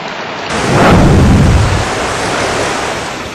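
The raging Ganges in flood at Haridwar, a loud, steady roar of rushing water that swells near the start and keeps churning without a break, with no voices over it.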